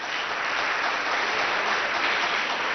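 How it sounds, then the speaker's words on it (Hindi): A crowd claps loudly and continuously at a Republic Day ceremony at Acharyakulam in Haridwar. The dense, even applause fills the space without pause or voices. "इसके लिए जोरदार ताली बजाओ एक बार।"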